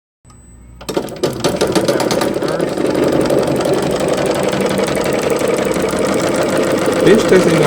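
Aircraft magneto spinning on a test bench during a 500-hour inspection, starting abruptly after a moment of quiet and settling into a steady, fast mechanical clatter and buzz that stays loud and even throughout.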